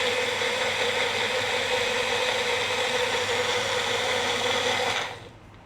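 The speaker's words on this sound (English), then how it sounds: "I'm putting on a blender." A kitchen blender runs continuously while blending sauce for tacos, a loud steady motor whine that holds evenly for about five seconds and then cuts off.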